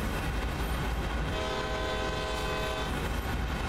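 A freight locomotive sounds a long, loud horn at a whistle board on Sand Patch Grade in Train Sim World 2, over steady rumbling engine and rail noise.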